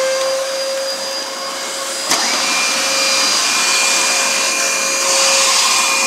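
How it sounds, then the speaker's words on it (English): A Dyson vacuum cleaner runs continuously with a loud, steady high-pitched whine and a strong whoosh of air, a brief click near the middle, with no speech. "This is a common vacuum sold also on TV,"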